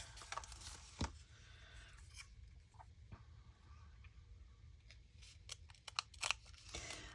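Scissors snipping through ribbon during a craft project, a few quiet, sharp cuts with a distinct snip near one second amid light handling noise.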